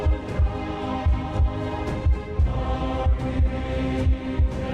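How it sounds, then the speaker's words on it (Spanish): A steady heartbeat thumps in a regular double-beat rhythm, deep and close, over a sustained musical drone at the start of the Valencia marathon. "Siente los latidos de tu corazón."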